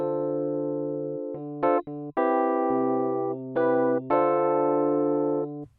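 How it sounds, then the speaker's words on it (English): Electric piano from Logic Pro X playing sustained chords and held notes in a clear, steady sequence, with a few sharp attacks and brief gaps between phrases, heard alone without talking. "This is the sound of my electric piano."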